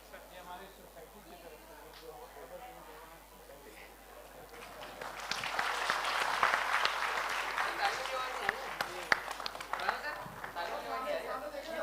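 Audience applause at a Dev Anand quiz event in Jaipur rises from scattered claps into a fuller burst of clapping, moderately loud in a hall, with talk underneath.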